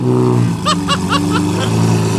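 A Mercedes E63S AMG with an aftermarket AGX exhaust drones and rumbles loudly nearby, with a voice briefly talking over the engine's steady growl.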